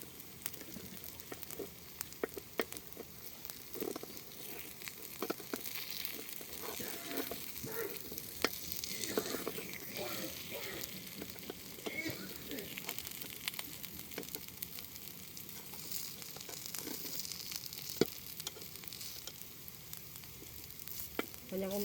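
Vegetable kundu dosa sizzles steadily while frying in a pan, a continuous crackling hiss with scattered pops and light stirring scrapes, close and moderately loud with no talk.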